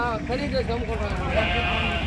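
Sheep bleat repeatedly and loudly at a crowded open-air sheep market in Gudur, with someone talking over the animals throughout.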